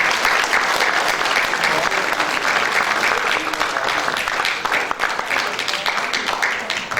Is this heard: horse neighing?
no